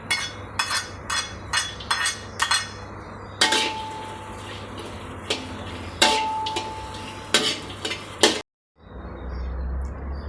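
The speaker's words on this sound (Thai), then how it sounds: "เราจะใส่พริกขี้หนูลงไปคั่วด้วยนะครับ" Bird's eye chilies are stir-roasted in a pan for a Thai chili paste with mackerel: a run of quick metallic clinks and scrapes from a utensil against the pan, close and fairly loud, then a brief cut and a steady hiss.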